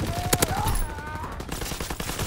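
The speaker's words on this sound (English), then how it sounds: "They fire on the infantry by the tank!" Gunfire from soldiers in Call of Duty: WWII as they fire on infantry beside a tank, with sharp repeated shots over a busy, dense battle din.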